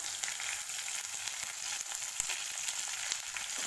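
Peanuts frying in a pan give a steady, dense crackling sizzle with scattered sharp pops, close and continuous throughout, with no voices.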